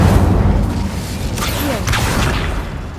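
A fire spell cast in Hogwarts Legacy on PS5 gives a loud, sustained burst of whooshing, booming flame across about three seconds, with steady low rumble and swishing bursts throughout.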